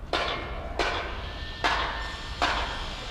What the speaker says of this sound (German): Ansonsten, Bauarbeiten da drüben, ich hoffe, ihr könnt mich noch hören.